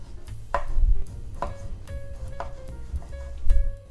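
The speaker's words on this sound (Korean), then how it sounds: "들어갈 방울토마토도 썰어 보겠습니다" Knife slicing cherry tomatoes in half on a cutting board while assembling an asparagus salad, giving four sharp separate cuts about a second apart, close and fairly clear.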